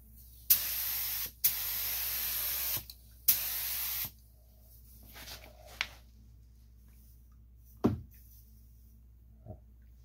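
A spray gun lays clear coat on a car's rocker panel in a few loud, steady hissing bursts, each lasting a second or more. Fainter clicks and small knocks follow in the quieter gaps.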